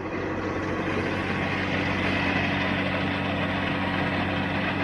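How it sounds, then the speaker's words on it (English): A Krone 2801 CV mower conditioner with impeller tines runs behind a John Deere 5055D tractor, giving a steady, continuous mechanical drone and hum with no talking. "the Krone 2801 CV, mower conditioner"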